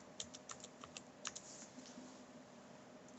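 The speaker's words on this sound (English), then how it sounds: "here we enter the passphrase that we would like to choose." Soft, quick keystrokes tap out a Wi-Fi passphrase on a computer keyboard, a brief irregular run of clicks that grows sparse and trails off, faint and close in a quiet room.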